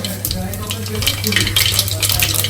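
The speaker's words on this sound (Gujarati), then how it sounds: "ટોટલ આટલી વસ્તુ લાઇટ ફ્રાય થઈ જાય ત્યાં સુધી આપણે એને તળવાની છે" Vegetables lightly frying in oil for Kathiyawadi undhiyu give a steady, close sizzle with occasional stirring and clatter in the pan.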